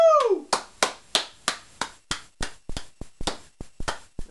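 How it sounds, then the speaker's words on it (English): A lone person claps hands, about a dozen sharp, close claps in a steady rhythm, right after a brief cheerful vocal whoop. "I'm the only one clapping."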